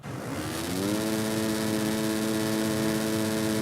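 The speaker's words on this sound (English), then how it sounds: "As you're revving our engine here" A Husqvarna motocross bike revs in the MXGP3 racing game at the Charlotte track: a steady engine drone that climbs to a sustained buzzing pitch, close and loud.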